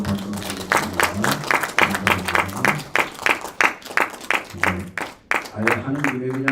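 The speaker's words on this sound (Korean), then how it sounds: "우리 한번 박수 드리겠습니다" A church congregation claps together to thank a young evangelist who prepared the meal. The clapping is sharp and rhythmic, and a voice speaks over it on and off throughout.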